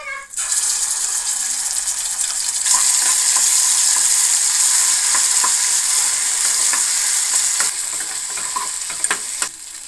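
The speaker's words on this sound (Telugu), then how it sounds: "అల్లం వెల్లుల్లి పేస్ట్ ఫ్రెండ్స్ పచ్చివాసన పోయేంత వరకు ఈ విధంగా వేపాలి." Ginger garlic paste frying in hot oil while chicken fry is prepared, with a continuous loud, close sizzle and occasional spoon scrapes and taps against the pan.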